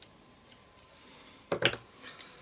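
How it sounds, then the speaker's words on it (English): Scissors trim excess paper from a collage art journal page, a quiet snip or two and a brief crisp cluster of cutting sounds, close and faint. "we'll trim off a little bit of that excess paper"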